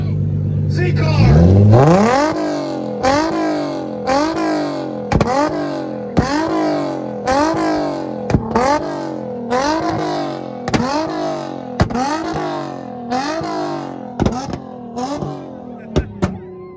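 Loud, close revving from a Nissan Z car at an outdoor import rev battle in Tulsa, Oklahoma: a steady series of sharp throttle blips climbing and falling roughly once a second, with crowd noise and shouting underneath.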